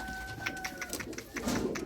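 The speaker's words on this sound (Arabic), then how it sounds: "هذا حمام من النسل المكناسي" Meknes-breed pigeons coo nearby in soft, short repeated pulses, with a faint high electronic whine in the background.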